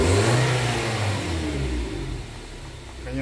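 A Nissan Livina engine fitted with an iForce throttle module revs loudly and close, a sustained rising then steady mid-pitched roar from a stationary car with no voices.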